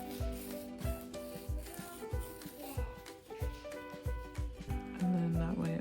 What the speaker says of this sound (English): I like to take my file and just sort of reshape